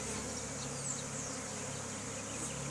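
A caught swarm of honey bees being rehomed fills the air with a dense, steady buzzing hum that stays even and unbroken throughout, with no voices.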